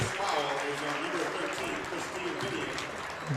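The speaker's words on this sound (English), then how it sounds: "good round of applause for the seniors checking out" Crowd applause in a gym at a women's college basketball game between Valley City State and Dakota State, steady clapping with a commentator talking over it.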